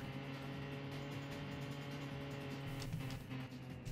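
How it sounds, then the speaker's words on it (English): In the N64 racing game Roadsters, car engines give a steady, droning, whirring hum like vacuum cleaners, with a background music track running throughout and a brief swell near the end. "And the cars that sound like vacuum cleaners."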